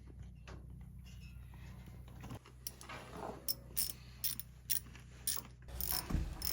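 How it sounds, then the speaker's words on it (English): A hand ratchet clicks in short repeated strokes while bolts and clamps are tightened on the bottom radiator hose of a Farmall F-14 tractor, close metallic ratcheting bursts over a low engine-like hum. "we can tighten up the bolts and the clamps for the bottom hose"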